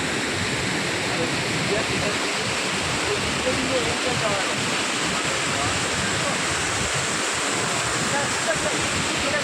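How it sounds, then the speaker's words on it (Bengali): Waterfall at Devkund pours in a steady, loud rush of water, a continuous broadband roar that never lets up. "কি সুন্দর ঝর্ণা কি ওয়ান্ডারফুল এই দেবগুণ্ডুতে এরকম করে জল বয়ে যাচ্ছে অনেকটা দূর দিয়ে"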